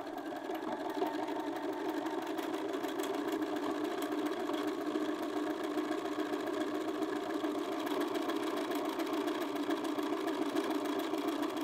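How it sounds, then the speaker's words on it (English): A sewing machine back tacks along a line of stitching on a field bag pocket, a steady whirring hum running unbroken and fairly quiet with no talking. "So I am just gonna back tack a tiny bit there just to keep this line of stitching secure."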